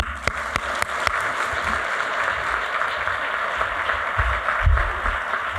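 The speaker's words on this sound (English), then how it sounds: "a big, big, big round of applause for all of our panelists and Justice Couriel" Audience applause for conference panelists and a justice at a roundtable on Cuba and the rule of law, a steady dense clapping that holds for several seconds with a few sharper claps near the start.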